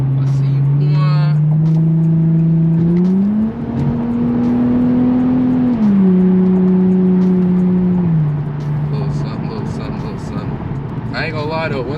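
An Infiniti G35 with a muffler delete drones loud and close, its exhaust tone climbing and settling in long steady steps as revs rise and fall, with people talking over it at times.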